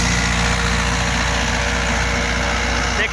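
A Mahindra 575 XP Plus tractor pulling an 8-foot Shaktiman rotavator at full load drones loudly and steadily, its heavy diesel throb filling the field without a break.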